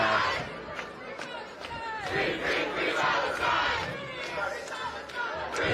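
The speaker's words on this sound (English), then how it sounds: "And now protesters are chanting" A large crowd of pro-Palestine protesters shouts and chants together outdoors on a New York City street, loud and rhythmic, with overlapping voices and general commotion.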